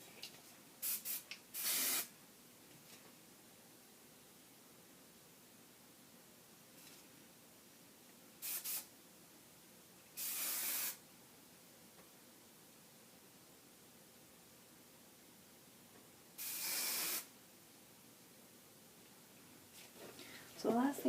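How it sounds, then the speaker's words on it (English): Hairspray misted onto a vintage roller derby hairstyle: short hissing aerosol bursts, about four or five spread across a quiet room, each lasting under a second, with a faint rustle at the end. "I'm going to use a different hairspray to shape it."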